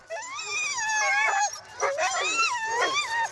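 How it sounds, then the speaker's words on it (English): Sled dogs in a snowy Canadian winter setting, eager before pulling a sled, yipping, whining and howling in high excited bursts close by, several dogs overlapping. "the dogs that are prepared to go sledding are eager to pull the sled"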